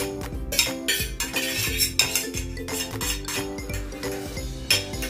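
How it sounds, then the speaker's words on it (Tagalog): Dry ingredients stirred together in a bowl, with a utensil clinking and scraping against the dish in quick, uneven strokes, close and clear. "Mas madaling haluin guys kapag ihalo muna natin itong mga dry ingredients."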